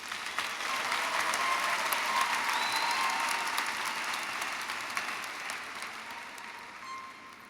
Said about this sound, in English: Please give a round of applause for our graduates and for the people at Community College of Philadelphia.